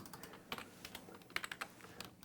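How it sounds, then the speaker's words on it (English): Quiet computer keyboard clacking, scattered keystrokes tapping at an uneven pace, close by with a faint hum underneath. "my wife says she likes the way the clacking of the keyboard sounds"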